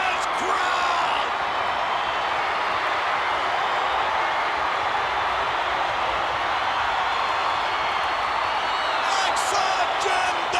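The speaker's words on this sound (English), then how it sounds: "Listen to this crowd." A wrestling arena crowd roars continuously after a clothesline finish, a loud, dense wall of cheering and whooping that stays sustained throughout, with scattered shouts rising from the mass.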